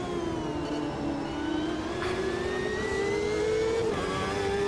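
CART 1998 race car at the Cleveland circuit in the racing game Automobilista 2, a high-pitched engine whine climbing steadily through a gear, with brief shifts, loud and continuous.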